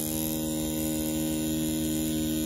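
A Mummy C1 tattoo machine running at low voltage, around 5 volts, makes a steady, close electric hum with a strong harmonic buzz that stays constant and unbroken throughout, with no talking.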